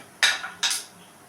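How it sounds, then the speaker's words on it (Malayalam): Paneer cutlet masala being mixed in a pan, two quick scraping clinks of a utensil against the pan, close and clear, with no speech. "നന്നായി മിക്സ് ചെയ്ത് കൊടുക്കുക."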